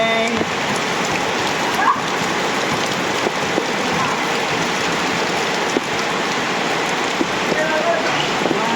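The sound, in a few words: heavy rain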